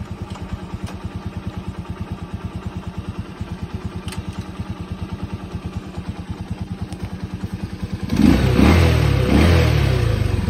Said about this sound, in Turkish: Motor rölantideyken gerçekten sesi yok. Çok tatlı bir sesi var.